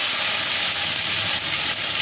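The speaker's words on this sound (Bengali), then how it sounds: "উচ্ছেগুলো আমি দিয়ে দিচ্ছি" Bitter gourd pieces dropped into hot oil crackle and sizzle loudly and close, a dense steady hiss filling the whole moment.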